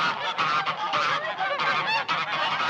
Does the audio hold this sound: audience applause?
no